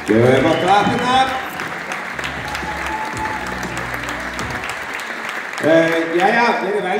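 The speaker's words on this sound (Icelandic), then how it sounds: "Gefum á klappirnar" Audience applause fills a hall at an Icelandic team boccia championship in Reykjanesbær, steady clapping throughout with voices on top that swell at the start and again near the end.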